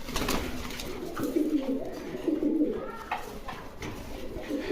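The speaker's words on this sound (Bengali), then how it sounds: "দেখেন ফুললি ফ্রেশের ভিতরে একজোড়া লোটন কবুতর" A pair of Lotan pigeons at a breeder's farm cooing in repeated low, soft throaty phrases, close and fairly quiet, with faint background rustle and no talk.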